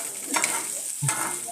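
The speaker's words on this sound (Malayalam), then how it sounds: "നല്ല ടേസ്റ്റിയുള്ള ഒരു ചിക്കൻ വറുക്കുന്നതാണ്" Chicken pieces frying in a pan, a continuous close sizzle with two short scraping stirs.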